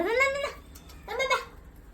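A cat at a home where rabbits are kept, giving two short, close meows about a second apart against quiet background hum.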